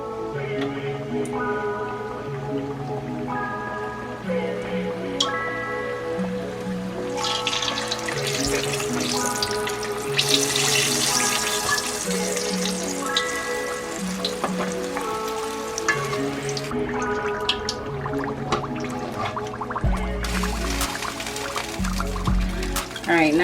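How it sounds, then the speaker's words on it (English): Fried apple pies sizzle and crackle in hot oil, a steady frying hiss that swells and fades, heard under background music. "so we're going to go ahead and fry these up"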